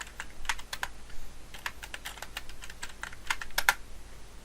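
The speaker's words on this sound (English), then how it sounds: "God damn it, I can't type." Quiet, close keystrokes on a computer keyboard while entering a password, irregular bursts of light clicks and taps with short pauses, no voice over them.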